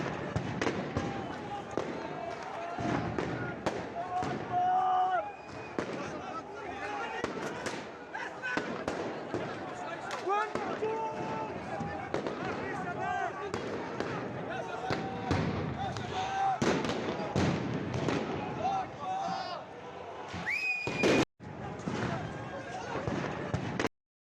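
Rubber bullets and stun grenades firing in a recording of a crackdown, a dense run of sharp bangs and pops, near and far, layered over shouting crowd noise, with one loud blast near the end.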